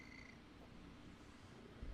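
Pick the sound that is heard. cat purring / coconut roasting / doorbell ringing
cat purring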